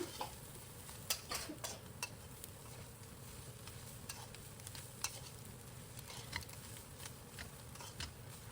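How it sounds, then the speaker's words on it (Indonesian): Sliced papaya leaves stir-fried with spices in a pan give a steady, dense sizzle, with light scraping ticks from the stirring throughout. "Tinggal lanjut dioseng-oseng lagi daun pepayanya biar bumbunya nanti lebih merata ke daun pepayanya ya"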